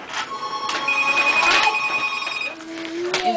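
A telephone rings in a busy holiday gathering, its bell tones sustained for over two seconds with a rising tone near the end, loud against crowd background noise.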